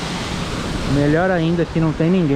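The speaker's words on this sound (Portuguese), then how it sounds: "E essa queda maravilhosa aí atrás, olha só." Steady broadband rush of the waterfall at Lagoa Azul in Jaguariaíva, Paraná, pouring into a wide swimming pool, heard continuously with someone talking over it for most of the stretch.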